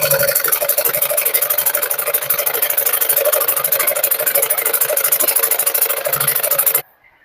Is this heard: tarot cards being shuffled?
no